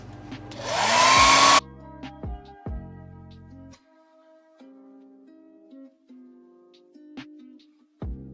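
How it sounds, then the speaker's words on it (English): A blow dryer whirs loudly for about a second and then shuts off, followed by quiet clicks and small handling knocks. "let's turn the blow dryer on and dry it"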